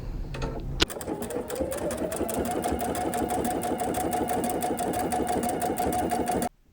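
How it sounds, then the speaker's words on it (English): A sewing machine with a built-in walking foot stitches through thick sweatshirt fabric, a steady fast mechanical whir and rapid needle thumping running for several seconds before stopping abruptly. "My machine has a built-in walking foot, so it definitely helps when sewing with these thicker materials."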